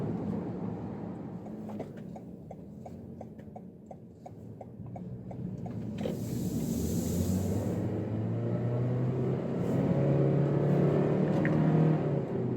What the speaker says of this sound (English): CVT whine, of course, can't run away from that.